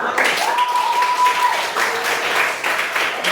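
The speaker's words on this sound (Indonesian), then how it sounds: "Ini tepuk tangan buat kita." Applause in a classroom, a dense wash of clapping filling the room, with a sustained whistle-like tone and some voices mixed in underneath.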